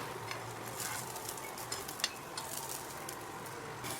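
Oil-brushed poli flatbread cooking on a hot griddle with ghee, a soft, faint continuous sizzle with light crackles.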